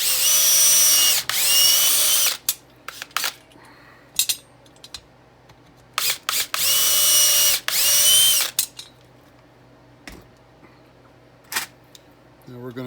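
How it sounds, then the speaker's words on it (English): A power drill whines in two high-pitched bursts of a few seconds each as a bit is run back through a Quadrajet carburetor base plate, separated by clicks, taps and small metallic clatter nearby. "Now we're gonna run the drill bit back through just to make sure there's not any edges."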